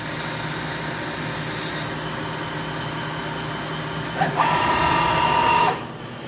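A Hardinge CNC lathe makes a finishing pass on a rifle barrel tenon, with steady machine hum and whine, then a sharper whining tone near the end before the cut stops.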